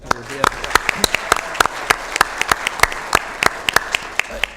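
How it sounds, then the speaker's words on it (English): An audience claps steadily for a few seconds at a county Board of Supervisors meeting, the sharp hand claps dense and even throughout. "How about a round of applause for Dave?"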